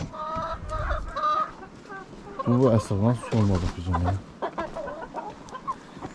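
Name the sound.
broody hen clucking in a chicken coop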